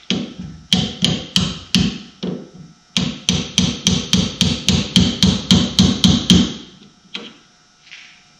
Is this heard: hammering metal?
yes